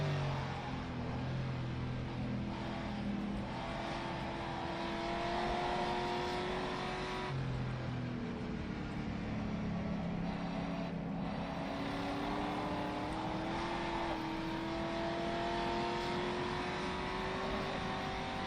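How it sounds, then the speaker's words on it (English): A Ferrari V12 engine in a racing video game roars steadily for the whole stretch, with rising and falling revs and gear shifts, loud and continuous. "and Jesper, this is the finest of Ferrari V12 with wrong engine sounds."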